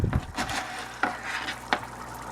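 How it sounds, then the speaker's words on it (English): Quick stir of electronic-scrap gold foils soaking in blue liquid, a few soft swishes with brief sharper clinks against the container, close and fairly quiet, no talking. "Give it a quick stir."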